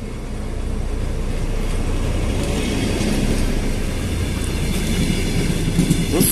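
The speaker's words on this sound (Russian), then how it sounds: "Ну а здесь уже наш поезд прибывает." A passenger train, the morning Riga–Zilupe service, rumbles past at close range in Latvia with a steady, heavy roar and rhythmic rail clatter, holding loud and constant throughout.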